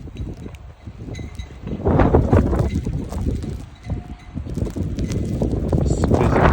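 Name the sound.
strong wind during snow storm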